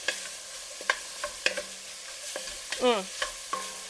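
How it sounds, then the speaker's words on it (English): Vegetables for a Mexican chicken soup stirred in a hot pot, with steady sizzling and frying under sharp scrapes and clanks of the spoon against the pot, plus a short clatter near the end. "So stir that up and let the heat do its thing."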